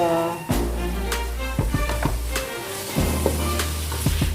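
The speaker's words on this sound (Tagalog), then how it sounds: "Just keep on mixing it so that the ground pork will" Ground pork sizzles steadily in a pan for a sauté of bean sprouts with tofu, broken by scraping stirs of a spatula at a regular pace, close and fairly loud without any talk.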